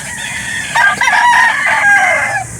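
Backyard chickens cluck and a rooster crows loudly and close at a chicken market in Calauan, Laguna, drawn-out calls overlapping with steady background noise.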